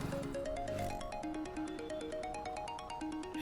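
A melodic phone ringtone for an incoming call plays loud and alone, a repeating electronic tune of bright stepped tones over a steady pulse.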